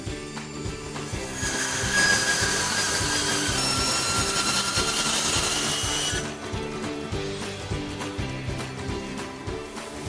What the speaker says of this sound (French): I cut it lengthwise with the bandsaw.